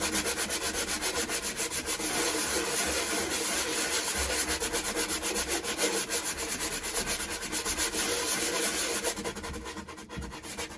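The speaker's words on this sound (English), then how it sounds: "All you gotta do is take the sander, go like this until it smooths out." A hand-guided sander smooths a rough, divoted surface with a steady, close scratchy rubbing that pulses rhythmically back and forth and stops just before the end, with no talking.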